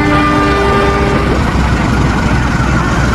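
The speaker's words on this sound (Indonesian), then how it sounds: "ada kereta api eksekutif guys. Double traksi." Executive passenger train hauled by two locomotives in double traction passing in Trainz Simulator, a loud steady rumble of wheels and engines with a brief sustained horn tone near the start.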